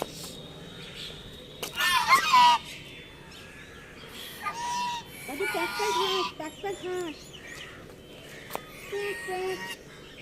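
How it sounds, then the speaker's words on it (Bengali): Ducks or geese in a garden give a few loud, nasal honking calls in short bursts, mixed with people talking nearby. "বাগানে 3টে হাঁস দেখেছি"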